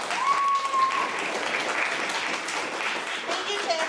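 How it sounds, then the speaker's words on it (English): An audience at a Christmas show applauds, a broad wash of clapping that holds steady for a few seconds, with a voice faintly audible over it. "a good round of applause to everybody"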